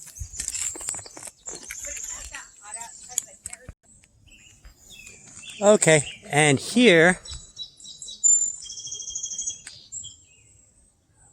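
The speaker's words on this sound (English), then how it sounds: "Wow, those birds are so noisy." Wild birds chirp and call loudly outdoors along a wooded nature trail, with bright repeated tweets scattered throughout, while a person talks briefly in the middle.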